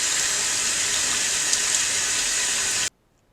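Water gushes steadily from a motorcycle fuel tank being flushed clean on a 2000 Suzuki Katana 750, a loud continuous splashing pour that cuts off abruptly near the end, with no talk.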